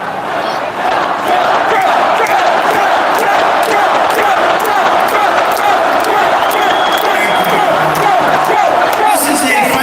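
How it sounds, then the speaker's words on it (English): A large, feisty crowd at a Trump rally in Pennsylvania roars and cheers loudly and without a break, a dense wall of shouting and whooping voices throughout. "This is a feisty little crowd."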